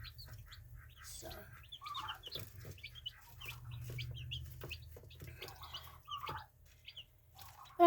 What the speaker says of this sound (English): I thought maybe you'd like to see a new breed of chicken that's in the coming about.